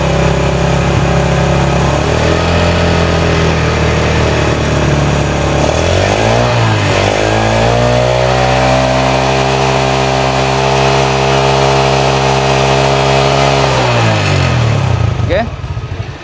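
Yamaha Jupiter Z motorcycle engine revved up close by, a loud steady hum that rises sharply in pitch, holds high for several seconds, then drops back toward idle.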